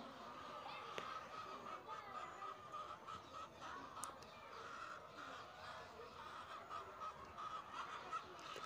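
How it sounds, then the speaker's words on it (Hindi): A flock of chickens in a wire coop on a village poultry farm clucks and squawks steadily with soft rustling, a busy continuous poultry chorus heard at close range. "पूरी मुर्गी मुझे देखकर थोड़े परेशान हो रही है"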